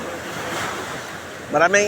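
Ocean surf rushing and crashing steadily with wind noise, swelling louder near the end as a bigger wave breaks.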